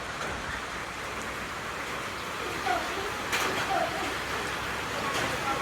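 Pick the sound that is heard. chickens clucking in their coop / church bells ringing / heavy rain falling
heavy rain falling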